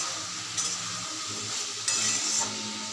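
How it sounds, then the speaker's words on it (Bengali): Masoor dal cooked with mango being stirred in a pot, a steady gentle bubbling hiss with a few light metallic clinks of a spoon against the rim. "তো আমি কিছুটা নাড়াচাড়া করে দিলাম"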